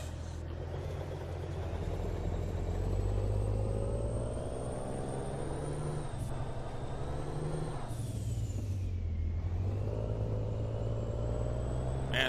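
Steady low engine rumble from a truck in American Truck Simulator, continuous and droning with a faint high whine and a brief hiss, no talk over it.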